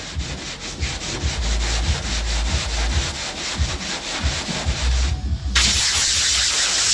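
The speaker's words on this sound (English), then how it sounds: "That way I can sand with both hands and start coming in like this, and we can make this radius correct." Steady back-and-forth scrubbing of hand sanding across car bodywork while shaping a panel radius, close and continuous with rhythmic strokes, ending in a brighter hiss.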